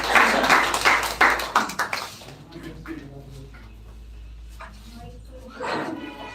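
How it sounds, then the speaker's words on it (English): Audience applause welcoming the next speaker at a speech competition, a burst of clapping that fades after about two seconds, then a quiet room with faint noises and a short swell of clapping near the end. "Please welcome with a huge round of applause."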